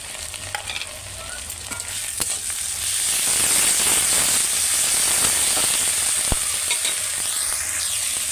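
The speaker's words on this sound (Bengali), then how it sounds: "আদা রসুনের পেস্ট আর পেঁয়াজ ভালো করে আমার মিক্স হয়ে গিয়ে ভাজা ভাজা হয়ে গেছে" Ginger garlic paste and onion fry together in a pan, a dense, steady sizzle that swells louder after a few seconds, with crackles and stirring scrapes throughout and no voices.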